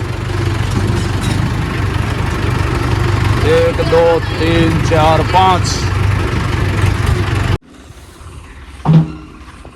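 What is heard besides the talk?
tractor engines idling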